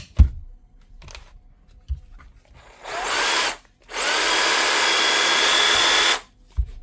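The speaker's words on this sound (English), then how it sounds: "One Bosch Jigsaw with a new lifting rod." A repaired Bosch cordless jigsaw with a new lifting rod runs in two bursts, a short one then a longer steady whine of about two seconds, loud and close, with a few clicks and knocks around it.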